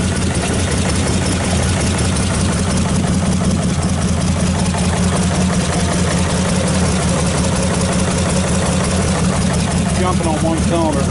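A worn 1927 Franklin car engine idles roughly while firing on only one cylinder, a loud, close, steady low chugging that holds throughout with a rough, uneven knock.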